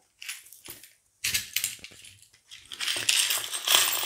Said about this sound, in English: I like to tip mine out onto, for example, the paper here,